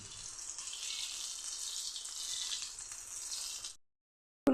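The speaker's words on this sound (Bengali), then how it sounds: "বাকি যেগুলি ছিল সেগুলিও ভেজে নিচ্ছি।" Stuffed eggplant fries in hot oil in a pan, a steady faint hiss and sizzle continuing evenly, then cutting off abruptly into silence before a brief sound at the very end.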